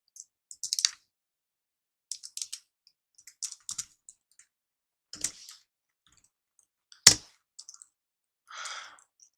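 Sparse clusters of keystrokes on a computer keyboard as a name is typed, quiet and close, with short bursts separated by pauses and one sharper tap, in an otherwise silent room.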